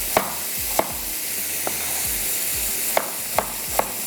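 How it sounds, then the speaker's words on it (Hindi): Sliced onions frying in a pan, a continuous moderate sizzle punctuated by six sharp stirring knocks at irregular intervals, no speech. "प्याज को स्लाइस कर लेते हैं और हल्का सा इसको लाइट सा गोल्डन कर लेंगे"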